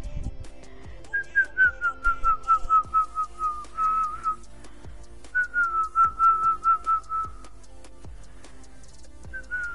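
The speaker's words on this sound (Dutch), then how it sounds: "Ik kan heel goed fluiten." Someone whistles a clear melodic tune in two long phrases, with sharp clicks and taps around it from a Fortnite gaming session with family and friends.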